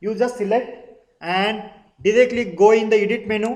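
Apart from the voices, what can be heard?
No everyday noise stands out behind the speech.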